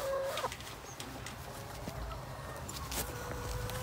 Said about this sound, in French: Et ça fait des poules heureuses.